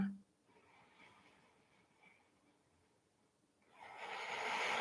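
Ujjayi breathing during an Ashtanga yoga practice, close and soft at first, then a longer, louder rushing breath near the end.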